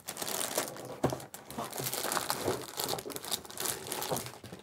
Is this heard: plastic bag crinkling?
yes